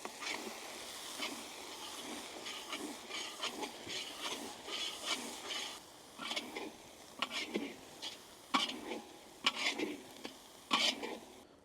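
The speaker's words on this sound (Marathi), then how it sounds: "आपण आता मसाले व्यवस्थित परतून घेऊ" Spices including Kashmiri red chilli powder and turmeric sizzle and hiss in a hot pan while a utensil scrapes and stirs in repeated bursts, close up and moderately quiet.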